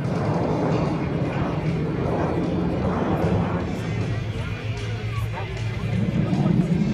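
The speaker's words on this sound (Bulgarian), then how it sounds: "Веднага пролича впечатляващата тяговооръженост на МиГ-29." A MiG-29 fighter jet climbs steeply during an air show, its roaring engine noise steady and loud throughout with a rumbling, surging texture and crowd murmur mixed underneath.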